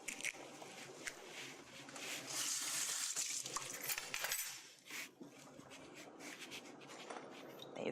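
Beaten eggs are stirred in a metal pot in a zigzag motion, producing soft, faint clinks and scraping taps in an irregular rhythm.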